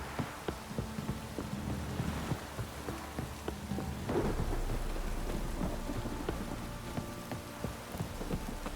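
A heavy downpour in The Witcher 3 pours steadily as a constant rain hiss, with low rumbling and scattered sharp patters over the top, heard without talk.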